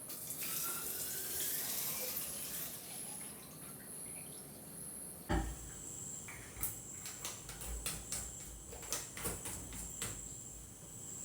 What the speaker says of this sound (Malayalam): അപ്പോൾ ഇതാ ഞാൻ ബോട്ടിലെല്ലാം വെള്ളം എടുത്തൊന്ന് റെഡിയാക്കി നിറച്ച് വെക്കുന്നുണ്ട്.